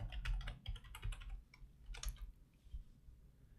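A computer keyboard clatters under a burst of quick typing while a password is entered on a corporate mail server login, close and distinct, with clustered keystrokes and short pauses before the tapping trails off.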